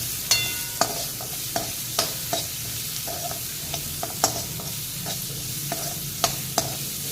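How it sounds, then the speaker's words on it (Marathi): Finely chopped onion and two whole green chillies sautéing in a pan for a dhaba-style stuffed brinjal dish, with a steady soft sizzle broken by repeated sharp scrapes and clinks of a spoon stirring at irregular intervals, no voices. "दोन हिरव्या मिरच्या मी अख्ख्याच घेतलेल्या आहेत आणि एक कांदा बारीक चिरून घेतलेला आहे ते घालूया आणि हे छान परतून घेऊयात"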